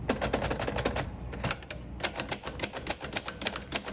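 A 1950 Royal Quiet Deluxe typewriter with gray tombstone keys is typed on at a quick, steady pace, crisp close keystrikes with a short pause midway, and no talking.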